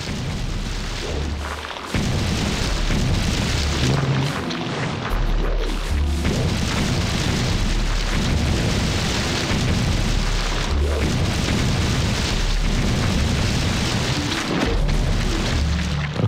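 Bombs detonate in The Legend of Zelda: The Wind Waker with deep, booming low thuds that repeat throughout, layered over a loud, dense game soundscape with no talking.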